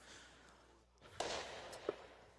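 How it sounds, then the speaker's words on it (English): Distant fireworks bursting over a high school baseball game in Atlantic, Iowa, two faint thuds with a soft crackle a fraction of a second apart, heard under steady outdoor crowd ambience. "we can now start to see the color of the fireworks"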